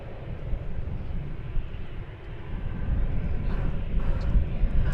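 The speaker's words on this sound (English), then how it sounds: "I guess an MD-11 coming in from Louisville." An MD-11 airliner arriving from Louisville lands on the east side of DFW airport, heard as a broad, steady low jet roar at a distance that swells slightly toward the end, with no voices.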